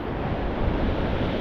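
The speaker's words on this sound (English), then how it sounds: "The tide is coming in." Ocean waves wash in on a beach as the tide rises, a loud, steady broadband roar mixed with wind buffeting the microphone, with no talk.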